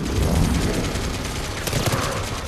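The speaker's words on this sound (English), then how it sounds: "Okay, the turret's actually laying me down." Sustained turret gunfire in the sci-fi shooter Mass Effect 3, a dense, steady fusillade of rapid shots rolling on for the whole stretch amid other battle noise.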